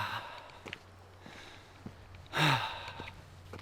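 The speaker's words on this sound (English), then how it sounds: "So I'm breathing probably a little harder than normal." A hiker climbing a steep trail at about 3,500 feet breathes hard, with one loud, close exhale in the middle and softer breaths and faint rustles of movement around it, in quiet open air.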